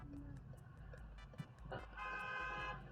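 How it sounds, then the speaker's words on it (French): A car horn sounds in a few short toots behind steady road noise and engine rumble, with a longer blare near the end. "sa voiture derrière qui klaxonne"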